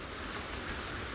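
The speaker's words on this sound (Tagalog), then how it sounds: "medyo umuulan ng bahagya" Steady, soft hiss of light rain falling at a mountain campsite, an even wash of drops with no distinct patter or voices.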